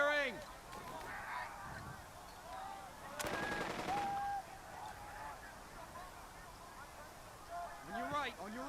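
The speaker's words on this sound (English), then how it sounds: "Keep firing." A rapid burst of gunfire rattles for about a second in the middle of a Burden of Command battle on the Sicily beaches, set among honking, tonal game sounds and faint voices.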